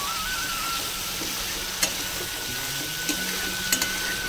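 Masala with a spoonful of sugar sizzles and fries in a pan while being stirred, for a cabbage and prawn dish; a steady close frying hiss with a few faint scrapes, no talk.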